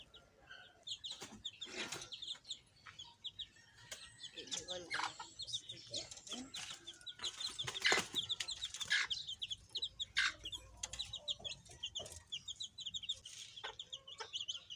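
Red junglefowl chicks in rainy, cold weather give high, rapid peeping clucks, many overlapping calls that are near and fairly clear, with occasional low background noise.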